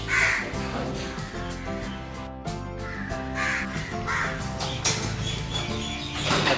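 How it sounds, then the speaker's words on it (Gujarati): Crows caw repeatedly near a house on a rainy day while being fed sev, mixed with mynas calling, over a dense, continuous background that sounds like music. "કાગડા કાબરોને સેવો નાખી છે, થોડા ખાવા આવ્યા છે"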